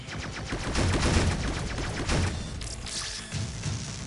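Rapid bursts of gunfire rain on the player in the video game Crashbots on PS4, dense overlapping shots with heavy low rumble, continuous and loud for the whole stretch.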